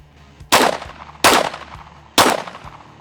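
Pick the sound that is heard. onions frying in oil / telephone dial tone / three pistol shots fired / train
three pistol shots fired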